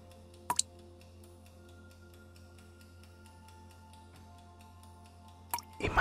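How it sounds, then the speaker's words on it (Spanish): Water drops dripping in a calm, relaxing setting: a couple of sharp, close drips near the start and again near the end over a steady soft hum, otherwise quiet. "Pon atención al sonido de la gota de agua."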